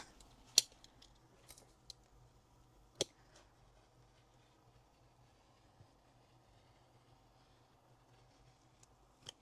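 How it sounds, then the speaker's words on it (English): A rotary cutter slicing the sleeves off a shirt, heard as a few sharp isolated clicks and crisp cuts over a quiet low hum, spaced apart with near silence between. "Now I'm going to take my rotary cutter and I am going to cut the sleeves off just right here on the sleeve side of the seam."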